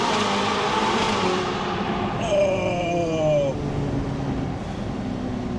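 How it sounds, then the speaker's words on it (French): A car downshifts and revs through a tunnel in Luxembourg, the engine note rising sharply and echoing off the walls, with voices talking over it. "Le tunnel, on va rétrograder."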